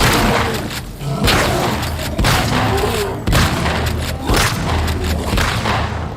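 Shotgun blasts in the video game The Last of Us 2, several loud booming shots at roughly one-second intervals over a dense, noisy game soundtrack.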